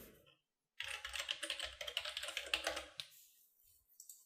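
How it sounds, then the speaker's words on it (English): Computer keyboard keys typed in a rapid, uneven burst of close clicks for about two seconds, then a few scattered taps. "I'm going to hit Shift A on the keyboard"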